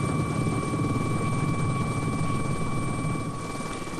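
Helicopter flying over an offshore wind park with twelve turbines, a steady broad rotor-and-engine drone that stays loud and close for the whole stretch and eases slightly toward the end, with no voices.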